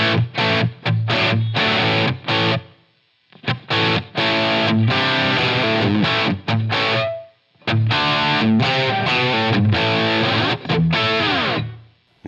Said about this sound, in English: bring that reverb in with those settings that I start as default.